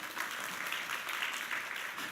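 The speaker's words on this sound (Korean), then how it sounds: "우레와 같은 박수를 여러분 보내주십시오" Dense, thunderous applause from a congregation at a Wednesday evening revival church service, continuous and even throughout with no voices over it.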